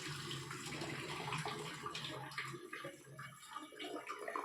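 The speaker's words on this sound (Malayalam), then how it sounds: "ഈ വെള്ളത്തിന് ഞങ്ങൾ വേറെ ഒരു പാത്രത്തിൽ ഒഴിച്ചിട്ട് അതിൽ തന്നെ നമുക്ക് അരി കഴുകിയിടാം" Water poured into a vessel for washing rice makes a steady, close splashing gush that slackens briefly midway and then carries on, fairly faint overall.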